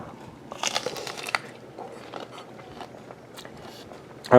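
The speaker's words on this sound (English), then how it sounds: "Much firmer, much crunchier fruit." Crisp crunching of someone biting into a firm Arkin star fruit, a couple of close, sharp crunches early on followed by quieter chewing.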